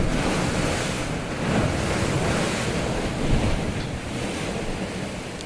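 Ocean waves surge and wash continuously against the rocky coast at Thunder Hole in Acadia National Park, Maine, mixed with strong wind buffeting the microphone, a loud, dense, unbroken roar with no voices.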